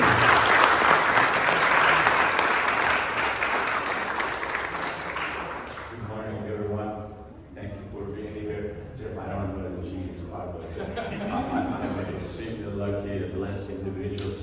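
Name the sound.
audience applause welcoming speaker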